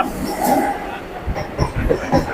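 Suburban commuter train running on rails on the line from BBD Bag toward Barrackpore, a steady close rumble with rhythmic wheel clatter swelling and easing over a couple of seconds.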